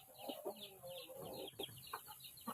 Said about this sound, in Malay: Kita nak lepaskan ayam-ayam RIR Palong.